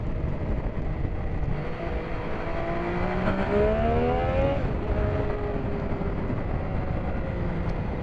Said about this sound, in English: The bike sounds utterly intoxicating.